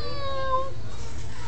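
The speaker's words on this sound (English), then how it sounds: "Cute little kitty cat." A pet kitty cat indoors gives one short, faint meow at the start, followed by quiet room noise.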